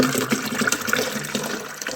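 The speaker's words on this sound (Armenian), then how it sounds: "Այստեղ ջուրը լցնում եմ" Water poured from a tap into a container for the day's household supply, a loud close splashing, gurgling stream running steadily throughout with no talking.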